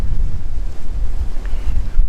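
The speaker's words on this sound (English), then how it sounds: "Wind's real high. It's windy this morning." Strong wind buffets the microphone in a forest on a cold morning deer hunt, in loud, continuous low rumbling gusts that rise and fall.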